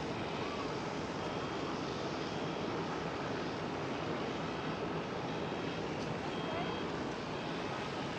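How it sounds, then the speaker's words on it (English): A United Boeing 767 airliner at Schiphol Airport, Amsterdam, heard from the panoramic terrace as a steady, far-off broadband engine roar that stays even throughout, with no speech in the clip. "Ooh, and another United 767"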